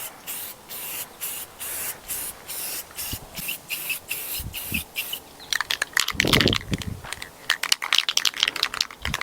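Repeated short bursts from a spray paint can coating a curtain pole for a travel trailer bedroom, about a dozen evenly spaced hisses at close range, followed by a denser run of rattling and clattering handling noises.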